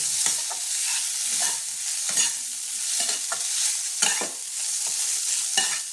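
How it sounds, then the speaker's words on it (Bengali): Katla fish paste frying in a pan, with repeated close spatula scrapes and stirring strokes over a soft, continuous sizzle, no one speaking. "এবার এটা আমি একটু ভেজে নামিয়ে নেব"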